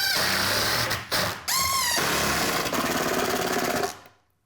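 A power drill drives a couple of screws into a scrap-wood garage workbench, whining loudly and steadily up close with a brief pause and restart partway through, then tapering off.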